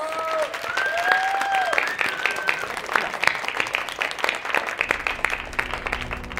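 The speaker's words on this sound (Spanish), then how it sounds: "Le dan un aplausote a Nax" A studio audience applauds a departing guest, moderate clapping from a modest group with brief tonal sounds over it at the start.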